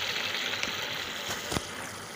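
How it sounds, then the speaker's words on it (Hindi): Rice boiling in a pot on the stove, a steady soft bubbling and gurgling wash that runs throughout, close and fairly quiet, with a couple of brief louder pops. "और ये मेरे चावल उबल रहे हैं,"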